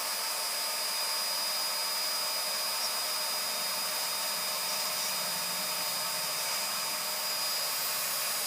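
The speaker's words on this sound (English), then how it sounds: "Now, the trick is to get the drill working first," A drill smooths off the end of a copper wire with a steady, loud, unbroken whirring that lasts throughout, with no talking.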